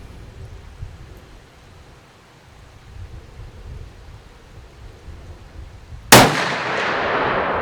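After six seconds of low background rumble, a CVA Scout V2 muzzleloader converted to smokeless powder fires one loud, sharp shot at a target, followed by a long decaying echo.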